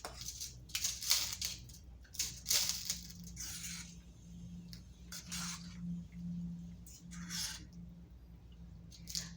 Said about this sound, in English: Now I'm just going to stir this all together.